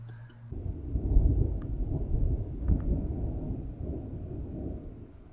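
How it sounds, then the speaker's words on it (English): A deep, sustained roar of jet engines rumbles overhead in the Alps, heavy and low, swelling slightly before easing off. "And now we hear jet engines going off every 30 seconds."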